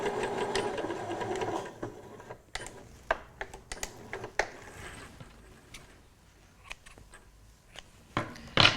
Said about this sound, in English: I can just stitch that last bit of tail that's not anchored at all down to the seam allowance only